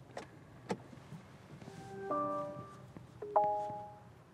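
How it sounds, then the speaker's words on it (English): Porsche Panamera Turbo hybrid, a 670 brake horsepower car, gives its default startup chime, a couple of soft clicks followed by two short electronic tonal bleeps in a quiet cabin. "You get an EV Prius type bleep"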